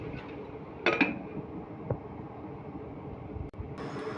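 A lid set on a cooking pot of Bengali mutton rezala: a quick double metallic clink near the start and a softer knock shortly after, over a low kitchen hiss.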